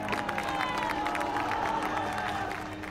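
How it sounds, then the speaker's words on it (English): A crowd at an earthquake rescue site in northern Pakistan roars, cheers and shouts in a dense, continuous wall of voices. "This massive roar and cheering just goes up."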